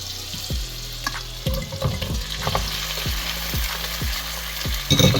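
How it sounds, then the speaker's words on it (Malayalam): Mashed cassava fries in butter in a pan with a steady soft sizzle. A spoon or spatula stirs and scrapes it in repeated, rhythmic strokes about every half second, close and clear. "ഇനി ഈ ബട്ടറിനകത്ത് ഈ കപ്പ നല്ലായിട്ട് ഉടച്ച് ചേർത്തെടുക്കണം അങ്ങനെ കപ്പ ചേർക്കാം"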